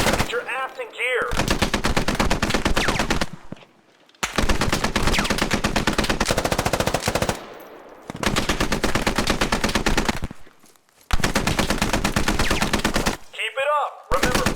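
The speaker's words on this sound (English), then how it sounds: "Firing rubber bullets, but they hurt." Sustained automatic gunfire with rubber training rounds in Squad's single-player training range, loud dense bursts of rapid shots separated by a few short pauses, with brief faint voice fragments at the start and end.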